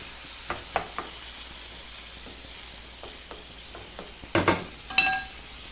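A pan sauce of white wine and cherry tomatoes sizzling softly at close range, broken by a few sharp clacks of a utensil and a louder burst of splattering near the end, with no talking.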